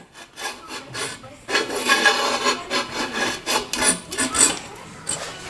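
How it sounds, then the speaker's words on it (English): A marking gauge set to 10mm scribes a line, giving close, loud, rhythmic scraping strokes that rasp back and forth for several seconds, with no talking. "I'm just going to scribe a line here now that I can work to."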